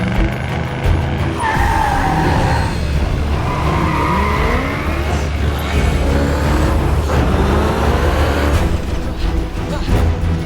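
Car tires skidding and squealing during a chase scene in the 2007 film Transformers, with engine roar and rising and falling screeches layered over a steady rumble, loud and sustained throughout.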